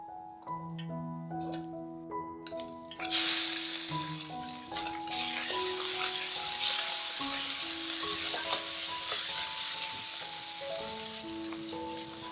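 Pork stir-frying over medium-low heat in hot rapeseed oil, a dense, continuous sizzle that swells loudly a few seconds in, with clinks from stirring and soft background music.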